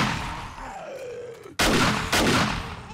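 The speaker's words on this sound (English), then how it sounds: "We got an automatic shotgun." Two loud, sharp automatic shotgun blasts from 7 Days to Die Alpha 19, close and about half a second apart, come after a low groaning creature sound.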